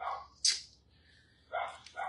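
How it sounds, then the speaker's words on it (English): Two cavoodle dogs bark indoors in a kitchen, a few short sharp yaps separated by pauses, fairly close and moderately loud. "Oh, dogs."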